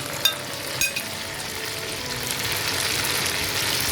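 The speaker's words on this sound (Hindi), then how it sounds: "अब मैं सारे ये टमाटर जो मैंने 6 अदद थे वो काट के इसमें डाल दिए हैं, माइक्रोवेव में सॉफ्ट करके" Six chopped tomatoes, softened in a microwave, sizzle and fry in a pan for chicken karahi, with a couple of sharp clinks of stirring near the start before a steady, close frying hiss builds.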